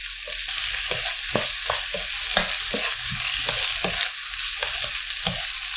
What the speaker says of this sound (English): now you up the heat and you stir fry it